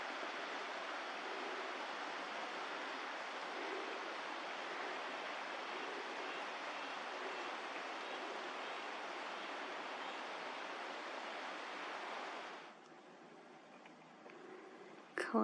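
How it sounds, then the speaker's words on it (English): Creek below an old mining area near Coleman, Alberta, a soft continuous rushing wash heard from a distance for most of the stretch, then cutting off abruptly to near quiet before a brief close handling sound. "Can hear the creek down there somewhere."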